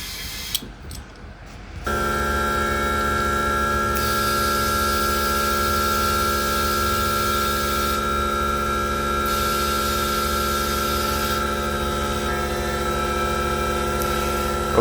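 A Toyota Matrix car tire being inflated with compressed air after tire sensor work, a loud steady hiss with a constant tonal hum that starts abruptly after a short rustling bit and runs unbroken to the end.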